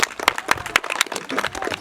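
A crowd applauds at the opening of a skate ramp at an outdoor family day, scattered sharp claps from a modest group, close by, with some voices mixed in.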